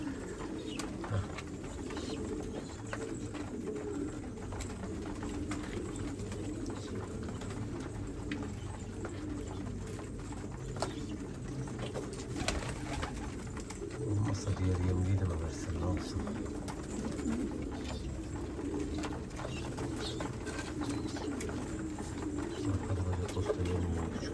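Pigeons kept in a loft coo steadily through the background, low and fairly continuous, alongside other bird sounds, while a person talks intermittently nearby.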